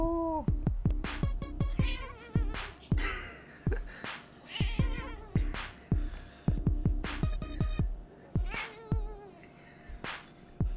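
A cat meows over and over in a rhythmic, chattering series of close, loud calls, with short pauses between bursts and no talking.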